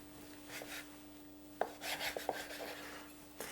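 Bread dough for traditional Italian loaves is divided in half on a floured board, with a few soft scraping rubs and a couple of quiet taps from the cut, close and faint against a low steady hum.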